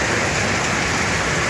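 Steady heavy rain pours down during a motorcycle ride, a loud, dense, even hiss that fills the whole clip with no breaks.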